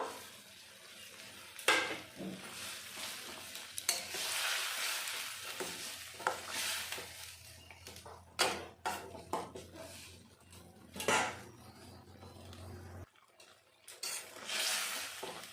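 Fried fish is added to telakochu greens in a pan and stirred, with a steady sizzle under repeated scraping and clinking of a utensil against the pan.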